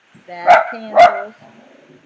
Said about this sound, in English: That's my dog barking in the background if you hear him.